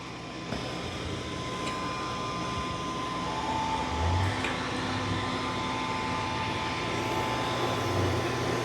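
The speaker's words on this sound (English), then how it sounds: "It's going to vacuum and mop this room at the same time." A Mova Z60 Ultra Roller robot vacuum mops and vacuums a room at the same time, giving off a steady, moderately loud whirring hum of motor and airflow with a few faint bumps over it.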